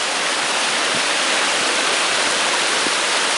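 A waterfall pours over rocks along a hiking trail, making a loud, steady, close-up rushing roar that fills the scene without pause.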